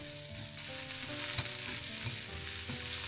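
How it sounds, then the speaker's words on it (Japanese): Daikon radish peel and ginger fry in a little sesame oil over medium heat, sizzling steadily and softly up close while being stirred, with no talking. "切った大根の皮と生姜を入れたら、ごま油を少量入れて火にかけます。"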